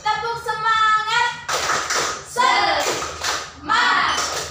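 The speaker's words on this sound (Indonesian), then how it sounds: "kita tepuk semangat dulu ya" Indonesian classroom group doing the tepuk semangat clapping chant, several bursts of rhythmic claps mixed with children's voices chanting along in short, loud phrases.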